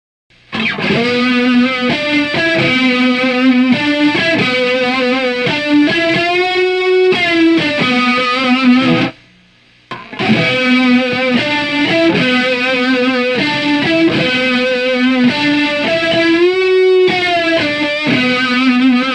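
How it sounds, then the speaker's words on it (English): A heavily distorted electric guitar plays a chugging riff, loud and continuous, with a brief pause midway before the riff starts again. "we're going to buckets of distortion. So just jack the distortion up"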